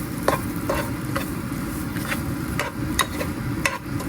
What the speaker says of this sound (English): So here I added the green chilies to stir it up.